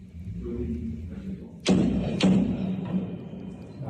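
Two sharp, loud gunshots from an automatic rifle about half a second apart, each with a quick broadband crack and a short tail, over a low rumbling background, during a terror attack in Brussels at night.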